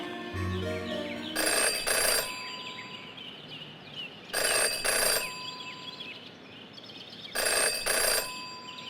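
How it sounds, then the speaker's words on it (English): An old-fashioned telephone rings in the detective adventure game Jenny LeClue, sounding three double-ring bursts at even intervals, loud and close over a steady ambient background with no talking. "Jenny had learned never to ignore a ringing phone."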